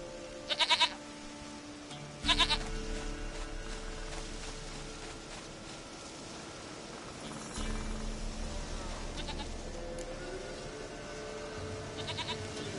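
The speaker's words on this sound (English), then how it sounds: "sweetest goat." A goat in a PS4 video game bleats in several short, clear cries spaced several seconds apart over a quiet game soundtrack, with no talking.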